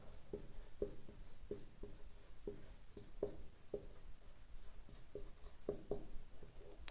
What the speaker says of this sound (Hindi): अपरिमित ही लिख देता हूं मैं।